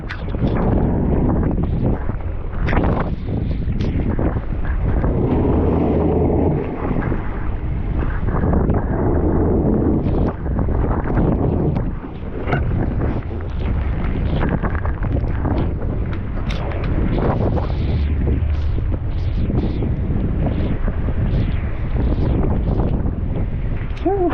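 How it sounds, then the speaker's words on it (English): Strong wind buffets a boat on open water, a loud continuous roar of gusts and microphone rumble that fills the whole stretch with little letup. "It's harder today because there's so much wind."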